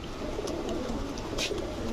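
A female pigeon, a red-geared Giribaj hen from Rajshahi, coos softly in a loft over steady background noise, with low repeated calls through the short stretch.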